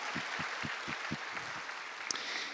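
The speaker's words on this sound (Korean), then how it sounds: "우리 서로를 향해서 크게 한번 박수로 서로를 격려할까요?" A church congregation at a Sunday youth and college worship service claps together for its summer mission team, a steady mid-distance wash of applause with a few low thumps beneath it and no voices over it.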